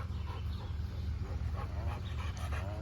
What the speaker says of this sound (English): God bless this dog